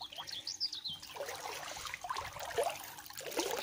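Water trickling and gurgling at the water intake of an outdoor swimming pool, a steady close burble with birds chirping faintly in the background.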